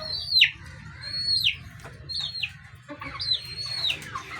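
Hens give four clucking calls, each a quick downward squawk about a second apart, over a low background murmur.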